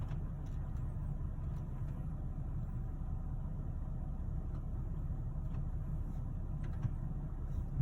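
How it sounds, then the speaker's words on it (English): A vehicle idles in two-wheel drive through a mud puddle at a Florida campsite, a low, steady engine rumble with no throttle, fairly quiet and continuous, with a few faint clicks above it. "can we just idle in two-wheel drive and just roll right through it?"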